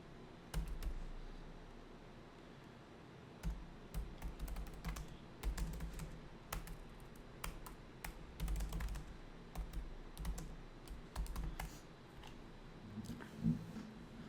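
Soft computer keyboard typing, irregular quiet clicks and bursts of keystrokes with short pauses, heard close and alone.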